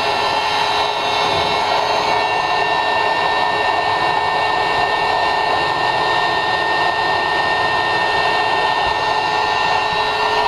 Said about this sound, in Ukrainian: Включаємо пилісос.